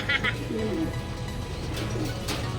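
Domestic pigeons cooing close by near a loft trapdoor, a few soft rolling coos with faint chirps over a low steady background hum.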